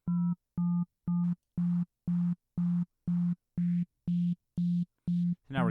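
A pulsing synth tone run through an erosion effect similar to bit crushing, eleven evenly spaced short beeps with a gritty, noisy edge that grows coarser toward the end, close and clear.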